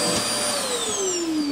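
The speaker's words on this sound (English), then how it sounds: "this even has an onboard vacuum and dustpan there." An onboard vacuum in a 2022 IBEX 19MBH travel trailer runs steadily and close by, a continuous whine with a slowly falling motor pitch and no voices.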